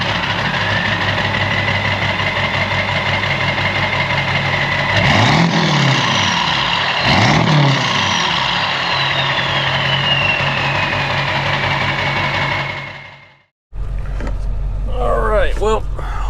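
A high-mileage Ford Powerstroke diesel truck engine runs steadily at close range, a constant droning rumble that swells twice briefly before cutting out, followed by a short burst of talking.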